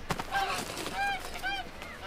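Cartoon duck in an anime, giving two or three nasal, honking calls over a soft background, with a faint voice talking at the start.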